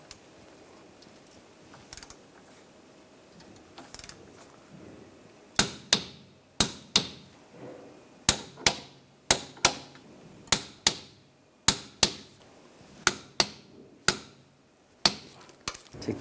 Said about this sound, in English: Now we'll torque these bolts to 77 foot-pounds.